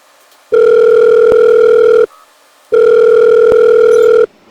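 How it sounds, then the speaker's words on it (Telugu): Telephone dial tone heard while a call is being placed, two long steady electronic beeps separated by a short pause, clear and alone with no talk. "ఒకసారి కాల్ చేసి మాట్లాడదాం"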